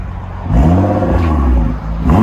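A Nissan GT-R 3.8L twin-turbo on straight-pipe exhaust revs hard around 4,000 RPM, a loud, close, rasping engine roar that holds steady, dips briefly, then climbs again.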